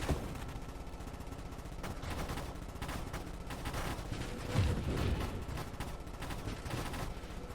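Rapid gunfire from a Gatling-style sniper weapon in the space shooter Nova Drift, a steady dense rattle of shots with a brief heavier burst midway, continuous and fairly loud.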